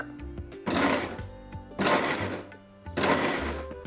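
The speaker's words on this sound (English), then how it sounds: "Let's get on to grinding our spinach." An electric mixer grinder whirs in three short, loud bursts with pauses between, briefly crushing spinach to a coarse texture rather than a paste.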